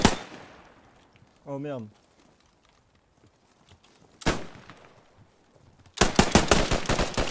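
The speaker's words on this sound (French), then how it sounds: "Ça a tiré de l'extérieur là, les gars, attention." Gunfire echoing from outside in a multiplayer shooter game: a single sharp distant shot, then a rapid burst of loud automatic fire, with a brief spoken exclamation between them over otherwise quiet background.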